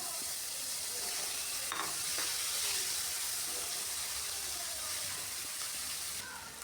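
Onion paste added to hot oil with whole spices (bay leaf, cloves, cardamom, cinnamon, dried chilli) frying in a pan, giving a steady, fairly quiet sizzle with a few brief clinks and stirring sounds.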